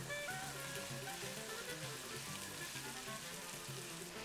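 Onion and garlic fry in a pan for a salt cod dish, giving a steady, close sizzle and crackle throughout with no talking.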